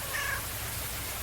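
A cat lets out one short, faint meow near the start, followed by quiet background hiss.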